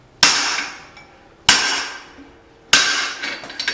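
Three loud, ringing hammer blows land about a second and a quarter apart as a bolt is struck on the edge of a steel anvil while forging a small knife, each strike decaying with a metallic ring.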